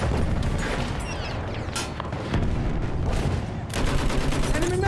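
Battlefield 1 machine gun fire rattles in loud, close bursts of rapid shots, with several sharp cracks and a heavier burst near the end over constant battlefield din.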